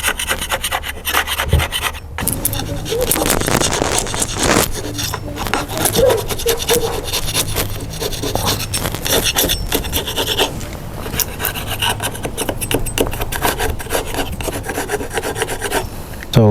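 A scraper drags across wood again and again to strip loose, flaking, peeling paint, making loud, close, rough rasping strokes in an uneven rhythm with no talk.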